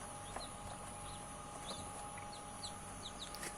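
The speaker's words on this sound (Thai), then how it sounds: "แล้วลูกไก่ก็อยู่ในนี้สามวันแล้วนะครับ" Three-day-old chicks cheep in high, thin peeps scattered across a steady background hum, several birds calling irregularly and fairly faint.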